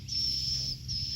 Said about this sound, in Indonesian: Dengar nggak itu suara burung di sana?